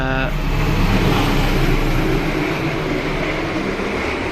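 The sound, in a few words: passing passenger train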